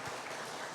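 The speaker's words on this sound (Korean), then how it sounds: "우리 수고하는 우리 성가대원들에서 격려의 박수 한번 드립시다." Applause for a church choir during a Sunday worship service, a dense steady clapping from the congregation filling the whole short moment without pause.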